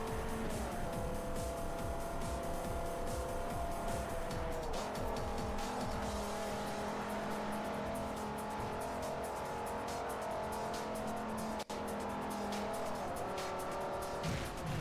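A race car in Forza Motorsport 4 howls along at high revs with continuous engine tone, tires squealing and scrubbing through corners under braking, loud and sustained with one sharp click midway.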